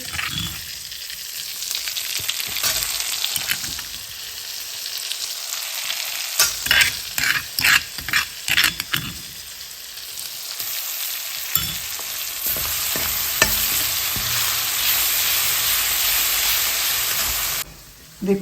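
Cumin and spices sizzle loudly in hot oil for stuffed brinjal masala, a dense continuous frying hiss broken by bursts of stirring clatter from a spoon against the pan.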